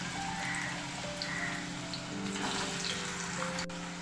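Potatoes frying in hot oil over a high flame produce a steady, moderately loud crackling sizzle, continuous and close, with no one speaking.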